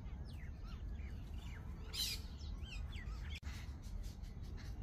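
Mynas and sparrows chirp outdoors in a scatter of quick, bright calls and short phrases, fairly faint over a low background rumble.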